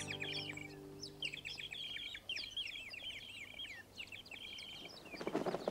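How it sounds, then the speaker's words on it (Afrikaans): Small birds in a flock chirp and twitter in quick repeated trills, moderately distant and fairly faint, with a brief rustling burst at the end. "Die eerste voëls kom terug."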